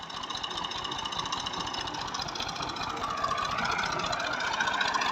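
A tractor engine idles steadily and close, its rapid, even piston knocking forming a continuous rhythmic chug throughout.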